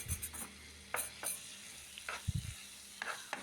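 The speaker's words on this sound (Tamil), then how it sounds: "இப்போ இது அப்படி நல்லா மீடியம் ஃப்ளேமில் வச்சு நல்லா அப்படி கலந்துட்டுனே இருக்கணும்." Chicken submarine filling with onion frying on medium flame as a spatula stirs and scrapes the pan in uneven bursts over a light sizzle, close and clear, no speech.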